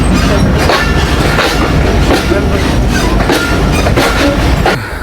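Inside an AC cabin of the Banglabandha Express at night, a moving train's wheels clatter rhythmically over the rails with repeated clicks and a loud rumbling roar, heard close up with no talk.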